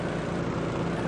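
A helicopter flies steadily in the Rules of Survival battle royale game, its rotor and engine drone continuous and fairly loud throughout, with no talk over it.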